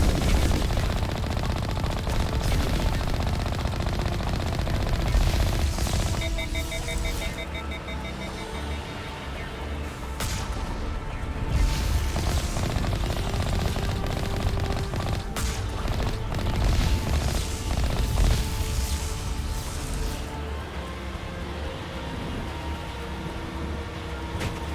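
Continuous heavy gunfire in Mass Effect, with dense rapid automatic bursts and booms layered into a loud, sustained battle din with no pauses and no talking.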